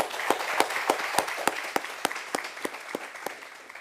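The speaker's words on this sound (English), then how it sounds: "Let's give him a round of applause." Applause at a book launch, heard as distinct sharp hand claps in a fairly steady rhythm that slowly fade, with a softer crowd clapping underneath.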